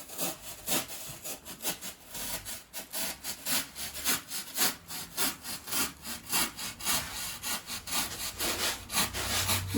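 A hacksaw is drawn back and forth along the top edges of fibreglass ribs on a sea fishing boat, giving a rhythmic, rasping stroke pattern of about a dozen close, fairly quiet passes with no talking.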